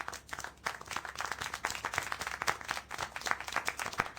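Applause in the video game Syberia: The World Before, a quiet scattering of distinct claps in an uneven rhythm, somewhat distant and soft.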